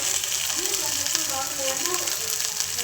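Fish pieces frying in a pan give off a steady, dense sizzle and crackle that runs the whole time, with faint voices and a little stirring underneath.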